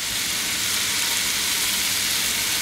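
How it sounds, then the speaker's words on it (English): Ramen-seasoned beef burger sliders fry in a large nonstick skillet, producing a constant, even, close sizzle with no other sounds. "We griddled up all these burgers."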